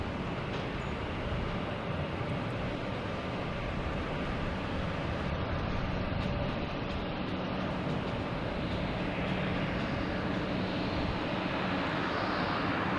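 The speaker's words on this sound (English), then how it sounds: "next coming in, we have JetBlue and A321 coming in from Las Vegas" JetBlue Airbus A321 arriving from Las Vegas at Boston Logan Airport, a steady, distant, droning jet roar that holds evenly throughout.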